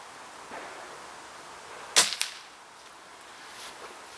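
A Walther LGV air rifle fired at an outdoor range: one sharp, close crack followed by a fainter second report, with quiet ambience around it.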